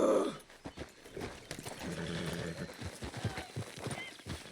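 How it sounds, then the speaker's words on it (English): Horse neighing and hooves clopping in Red Dead Redemption 2, a whinny at the start followed by a run of steady hoofbeats with a low rumble under faint talk. "Damn horse acting up on me of all the times."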